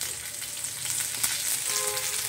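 Fish frying in oil with chopped onion and ginger, a dense, even close-up sizzle that holds steady from start to finish, alone with no speech.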